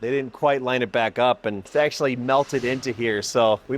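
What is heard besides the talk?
None of the usual background noises is heard.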